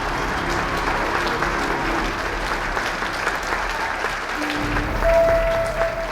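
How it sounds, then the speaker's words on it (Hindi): Audience applause for a daughter and son-in-law at a family gathering in a Hindi drama, a steady even wash of clapping held at moderate level, with brief tones coming through. "एक बार मेरी बेटी और दामाद के लिए जोरदार तालियां हो जाए"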